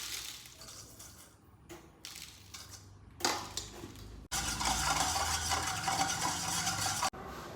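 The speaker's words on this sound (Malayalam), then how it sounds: "പിന്നെ കുറച്ച് പഞ്ചസാരയും കൂടെ എടുത്തിട്ട് അടുത്ത പാത്രത്തിൽ മിക്സ് ആക്കി കൊടുക്കാം കേട്ടോ" Sugar and cornflour being mixed together in a kitchen vessel for a Tang pudding, with scraping, clinking stirring and dish handling that grows louder and steadier partway through, near and without talk.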